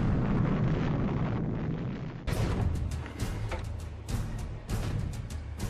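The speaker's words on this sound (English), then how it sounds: "imagine their reaction to the detonation of the father of all bombs" Massive detonation of the Father of All Bombs, a thermobaric weapon: a loud, sustained roaring blast that rumbles on, then breaks into a series of sharp cracking bursts, with no voices.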